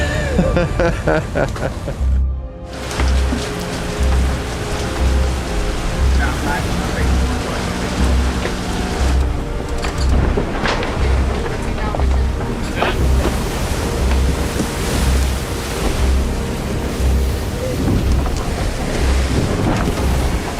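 Ocean waves and strong wind roar continuously aboard the racing yacht Comanche crossing the mid-Atlantic, a loud, dense wash of water and wind buffeting with rushing surges throughout.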